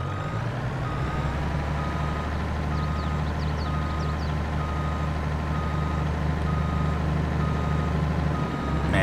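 Inside the Farming Simulator 22 video game, a fire truck reverses, its beeper repeating steadily over a constant diesel engine drone, loud and close throughout.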